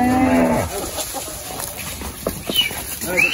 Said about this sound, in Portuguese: Agora vamos levar o gado lá no pasto.